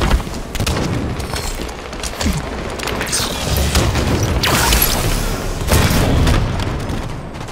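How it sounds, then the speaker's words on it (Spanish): Grenades explode in Halo 5: Guardians amid dense, continuous gunfire and booming blasts, with several sharp, loud bursts standing out over the constant battle noise. "¡Lanzando granadas!"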